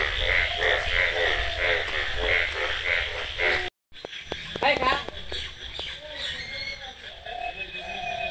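Frogs croak during heavy rain around a flooded village pond and garden, a rhythmic chorus of repeated calls up close that cuts off abruptly, followed by scattered calls and rain noise while a person talks.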